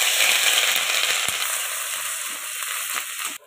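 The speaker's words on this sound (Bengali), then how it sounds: "তেল গরম হয়ে গেছে, আদা কুচি দিয়ে দিচ্ছি" Chopped ginger sizzles in hot mustard oil in a pan, a steady close frying crackle throughout with a faint clatter of a utensil before it cuts off near the end.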